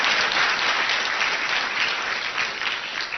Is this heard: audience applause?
yes